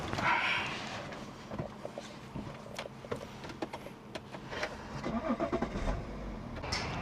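A car on a road trip from Melbourne toward Sydney starts up and pulls away, with a brief engine crank, then a rising engine and mechanical rattles close by, and a dog faintly in the background.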